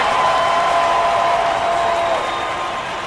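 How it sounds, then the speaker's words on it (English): Baseball stadium crowd cheering and applauding in the Action PC Baseball video game, a broad steady roar that fades slightly toward the end. "Yankees fans cheer even though they're down."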